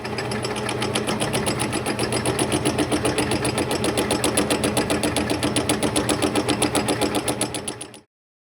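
A lathe machines a spline shaft held in its chuck, producing a loud, close, steady mechanical chatter with a fast regular pulsing rhythm that runs evenly for about eight seconds before cutting off abruptly.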